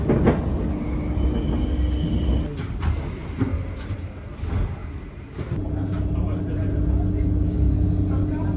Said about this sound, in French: Là, j'étais dans le métro